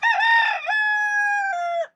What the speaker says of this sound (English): when the rooster crows